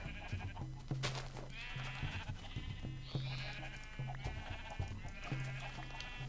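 Repeated sheep bleats from Minecraft with the Tekkit modpack come in short wavering cries every second or so, fairly close and overlapping, over a busy background of game sounds.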